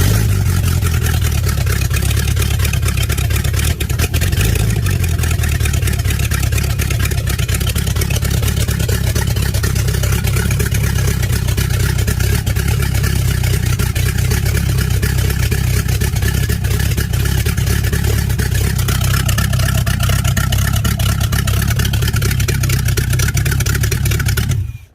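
A gummed-up Mopar 440 stroker V8 runs on a run stand before its rebuild, a loud, close, continuous rumble with uneven revving throughout, no talking.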